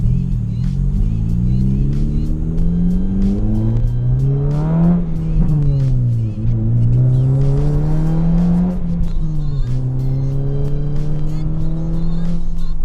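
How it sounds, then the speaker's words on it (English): Honda Civic Si with a muffler delete revs hard and loud, its exhaust note climbing and falling through several rising sweeps with sharp rasp, continuous and close throughout. "definitely get a muffler delete to save some money and to still give you the look that you want and the sound that you want"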